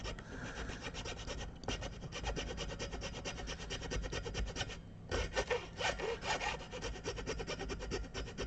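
Repeated rasping strokes of a file on the nut of a 1961 Gibson Melody Maker guitar, close and steady, with a short pause before rougher, choppier strokes resume.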